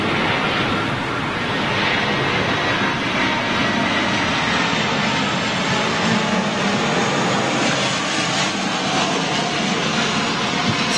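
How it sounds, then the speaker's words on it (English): A Delta Airbus A320 jet airliner at an airport, with a loud, steady broadband engine roar that holds for the whole stretch with no talk over it. "Look at that Delta 320."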